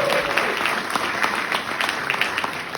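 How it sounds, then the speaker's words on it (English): A stand-up comedy audience applauds lecturers, with dense, steady clapping from a crowd filling the room for a few seconds. "Let's give them a round of applause."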